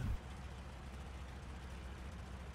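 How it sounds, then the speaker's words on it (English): The port engine of a Henschel Hs 129B-2 twin-engine ground-attack aircraft runs in a flight simulator, a steady low drone settling at idle after a short louder burst at the start. "So as that port engine stabilizes"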